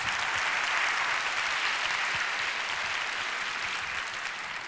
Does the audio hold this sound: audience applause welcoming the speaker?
yes